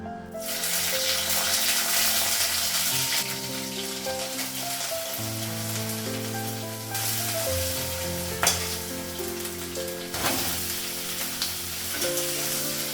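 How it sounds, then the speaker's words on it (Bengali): Cumin, black cumin, ginger paste and green chilli frying in oil in a wok, a loud, steady sizzle close by, with occasional stirring bumps and a soft background hum. "কড়াইয়ে হচ্ছে জিরে লাগালাম, আর কালো জিরে লাগিয়েছি, আর আদা বাটা আর হচ্ছে কাঁচা লঙ্কা"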